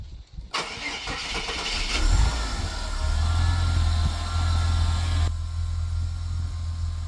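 A Ford Fairlane, just back together after repairs for an engine miss, cranks briefly and starts, then settles into a steady, loud idle that runs close to the microphone throughout, with no talking.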